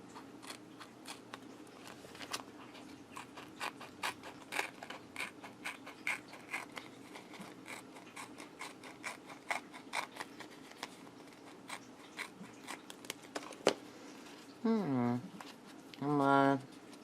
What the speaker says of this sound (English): I'm going to cut the trim off.